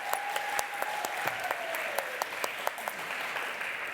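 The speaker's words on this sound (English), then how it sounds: "let's give a big hand" Enthusiastic audience applause greets two children's book illustrators at a Big Draw event: steady, dense clapping with a few sharper individual claps standing out, filling the whole stretch without talk.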